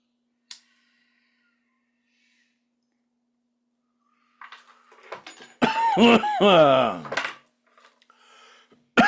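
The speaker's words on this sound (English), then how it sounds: "I should turn the microphone away when I'm coughing" A sharp click, then rough coughing close to the microphone, followed by loud harsh voiced coughs and throat-clearing.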